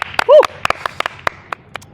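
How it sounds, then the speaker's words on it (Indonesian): Scattered hand claps, a handful of sharp separate strikes spaced irregularly and close by, with a brief voice sound near the start. "tepuk tangan teman-teman"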